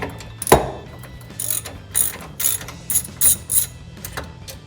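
A ratchet wrench works loose a brake line bracket on a Jeep Wrangler TJ: one sharp knock, then six or seven short bursts of clicking pawl in quick spurts, close and fairly loud, with no one speaking.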